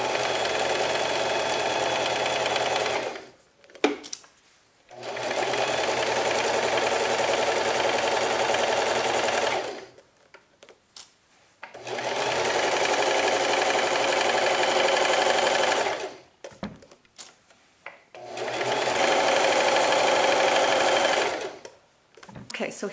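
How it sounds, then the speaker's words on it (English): A sewing machine runs a straight stitch along a quarter-inch seam on a pillowcase, with backstitching. Four long, steady, close-up runs of whirring stitching are separated by short pauses. "we're just gonna sew a 1/4 inch seam."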